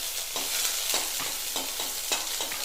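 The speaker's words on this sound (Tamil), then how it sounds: "எண்ணெய் காஞ்சிருச்சு. நான் இப்போ இந்த வெங்காயத்தை போடுறேன்." Onions frying in hot oil for a radish sambar, a steady broadband sizzle with periodic scraping stirs roughly every half second, close and continuous with no talking.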